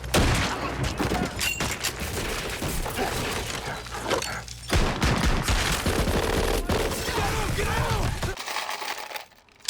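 Bursts of gunfire from 1944-era firearms on a film set, rapid automatic fusillades and clattering shots going on loud and nearly continuous for several seconds before cutting off.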